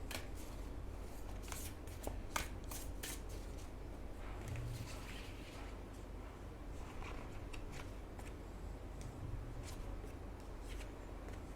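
Divine guidance cards being shuffled by hand in a quiet room, a continuous soft papery riffling with crisp flicks of card edges, close and steady throughout, with no talking.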